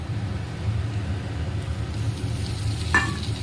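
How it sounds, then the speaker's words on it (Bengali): Spice masala added to fried onions and sizzling in a pan, with a low steady frying hiss, soft stirring and one brief clink near the end. "মশলাটা একটু কষাবো,"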